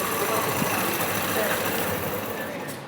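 Honda Shine BS6 motorcycle fitted with an alternate carburettor idles with a steady, close engine drone and a fine rapid patter throughout, under someone talking.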